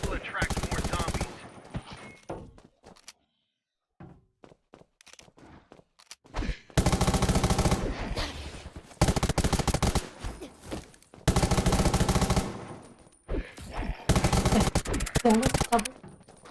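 Bursts of automatic gunfire in the zombie survival game Undawn come in several loud, close volleys separated by quiet gaps and scattered single shots.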